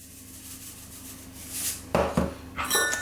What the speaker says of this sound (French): À l'aide du fouet, donc on mélange.